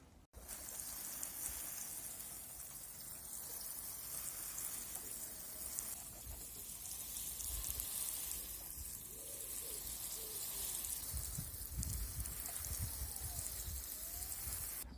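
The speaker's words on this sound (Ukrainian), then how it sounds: "10 літрів цієї суміші я буду виливати під корінь, під лохину ось тут, під цей кущ" Ten litres of a liquid acidifier and fertiliser mixture is poured onto the roots of a blueberry bush in a spring garden. It makes a steady, close splashing and trickling that runs without a break for the whole stretch, with no talk.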